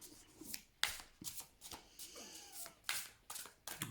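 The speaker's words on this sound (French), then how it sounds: "si ce tirage, vous n'avez pas toutes les réponses à vos questions" Tarot cards are shuffled by hand close to the microphone in quiet, uneven bursts of soft riffling and slapping flicks, several short runs with brief gaps between them.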